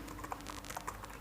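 Rapid light clicks of typing on a computer keyboard, faint and close, in a quick irregular run of keystrokes with no speech.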